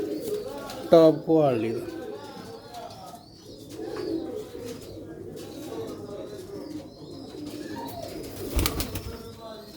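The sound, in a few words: pigeons cooing on a rooftop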